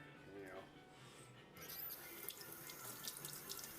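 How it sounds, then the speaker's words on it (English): Something rinsed under a running sink tap, a steady hiss of flowing water that grows fuller partway through, fairly faint, with a person talking over it. "I'm gonna rinse this off here."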